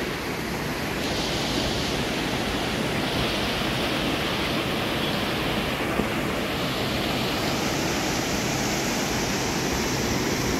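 A mountain stream rushes in a constant, dense roar of flowing water, close and loud without a break, with no voices heard.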